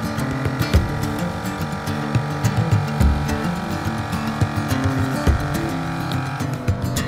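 A car on a camping trip in South Australia drives along, its engine running steadily and loud up close, with bumps and rattles from the road throughout.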